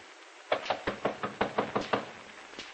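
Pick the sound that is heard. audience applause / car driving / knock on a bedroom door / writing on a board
knock on a bedroom door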